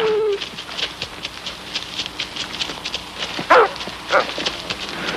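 A hunting dog gives a couple of short barks or bays partway through, set against a busy, noisy outdoor background with faint clopping.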